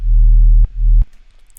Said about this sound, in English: we have the low layer, which is the sub bass that sounds like this